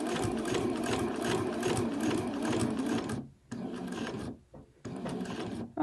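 A sewing machine stitches a festive fabric crown, whirring steadily and loudly up close for about three seconds, then stopping and starting in two shorter runs with brief silent pauses between.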